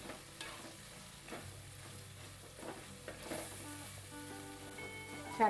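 Onions sizzle softly in a pan while being stirred, with occasional scrapes and taps of the utensil against the pan at close range.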